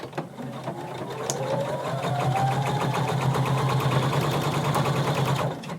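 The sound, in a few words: sewing machine stitching a McCall 6361 seam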